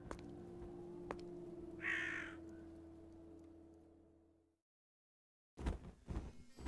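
A crow caws once in the video game Heaven's Hope, a short harsh call over a steady low ambient hum that fades to silence before noisy game sound returns.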